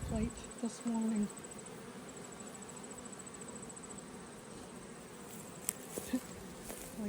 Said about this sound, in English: So a few of these queens just might have gone on their mating flight this morning.